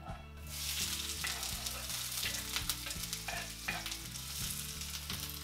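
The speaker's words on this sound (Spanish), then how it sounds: "Ponemos una sartén en el fuego moderado con 40 mililitros de aceite de oliva. Y añadimos la cebolla picada muy menuda." Finely chopped onion fries in about 40 ml of olive oil in a pan over moderate heat, giving a steady bright sizzle with repeated scraping and stirring knocks throughout.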